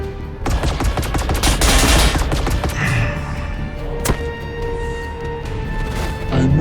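Gunfire rings out in the Warhammer 40,000: Battlesector strategy game: a dense, loud burst of rapid shots with crashing impacts, then a single sharp blast and a lighter shot near the end.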